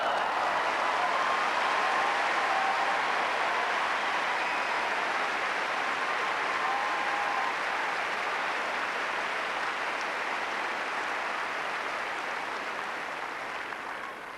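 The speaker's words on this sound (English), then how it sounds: "a real buzz in the crowd" A tennis crowd on a grass court after a long rally, sustained, dense applause and buzzing from many spectators, loud and even, slowly tapering off toward the end.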